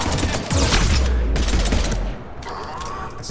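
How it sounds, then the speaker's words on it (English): Sniper rifle fire in the sci-fi video game Mass Effect 3 starts with a heavy, booming shot and a rumbling tail, followed by a crackling burst and a second sharp report near the end, loud and close. "It's a sniper. That's where my armor's going."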